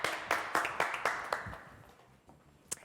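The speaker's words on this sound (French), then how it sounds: "Applaudissements pour Jazz Canis" Small studio audience applauding a game show contestant, a few sharp rhythmic claps that thin out and fade, ending with one last isolated clap.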